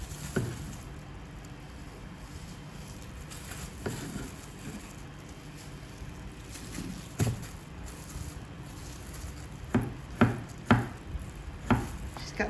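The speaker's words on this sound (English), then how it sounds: "And then you just take the cucumbers and you cut them." A knife slices cucumbers diagonally for a spicy Thai beef salad, with scattered soft chops early and then a quicker run of crisp cuts on the board toward the end, all close up and without talk.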